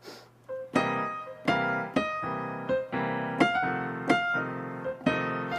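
Piano plays a chunky four-on-the-floor blues pattern, left-hand chords struck steadily on each beat with short decays, about eight even hits at moderate volume.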